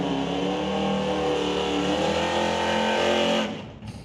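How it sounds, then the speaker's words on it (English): A 1968 Dodge Dart drag car with a 440 Mopar engine roars loudly at a drag strip, a sustained, harmonically rich engine drone that holds near full power, then drops away as the car passes. "1968 Dart running a 440 Mopar"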